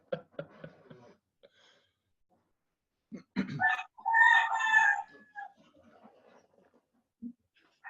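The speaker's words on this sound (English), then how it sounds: "And I love the rooster too." A rooster crows once, a loud strained cock-a-doodle-doo in the middle, framed by soft clucks and faint scattered sounds in an otherwise quiet space.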